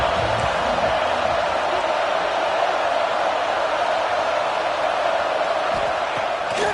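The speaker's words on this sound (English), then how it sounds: "This crowd ready to make its presence known." Stadium crowd at a college football game between the Terps and NC State, a steady, distant roar of cheering that holds evenly throughout.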